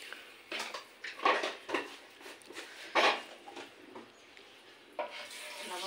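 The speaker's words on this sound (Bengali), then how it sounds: "ভুট্টাগুলো দিয়ে নাড়াচাড়া দিয়ে দিচ্ছি।" Corn kernels are stirred in oil and salt in a wok, giving soft irregular scraping and rattling bursts with a faint sizzle underneath, fairly quiet and close.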